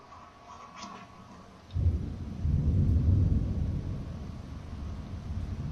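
Violent snowstorm in the game Wolf Tails: a low wind hush gives way to a sudden deep rumble of thunder that swells and rolls on loudly, blending into storm noise without any voices.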